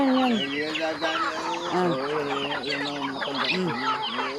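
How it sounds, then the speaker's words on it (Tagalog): Close native hen clucking on a farm, repeated throaty clucks in an uneven rhythm, with other birds chattering in the background. "Inahin naman, Kel."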